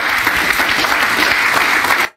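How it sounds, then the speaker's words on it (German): A television studio audience claps loudly and steadily in dense applause that cuts off abruptly. "Und das Publikum klatscht."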